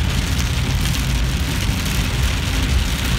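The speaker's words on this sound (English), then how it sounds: "a direct thunderstorm overhead" Heavy rain pounds on a car driving along a motorway into Sydney during a thunderstorm, a dense, loud, continuous hiss with low road rumble underneath.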